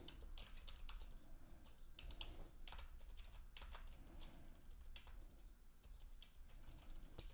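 Programming code being typed on a computer keyboard, a steady stream of rapid key taps over several seconds, with no talking and a low background hum underneath.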